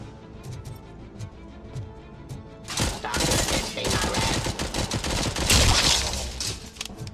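SMG gunfire in the video game RoboCop: Rogue City, starting with scattered shots and then breaking into sustained loud bursts of rapid fire that fill most of the clip.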